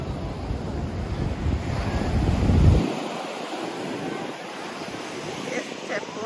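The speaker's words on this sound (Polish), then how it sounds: "Ale są duże fale." Large ocean waves roll and crash onto a beach on Korea's East Sea coast at Gangneung, a heavy surge swelling then fading into steady wind and distant surf.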